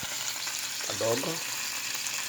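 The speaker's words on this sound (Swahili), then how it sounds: "nazidi kukoroga" Garlic sizzles in a pan for an omelette, a constant close frying hiss with a brief scrape of stirring partway through.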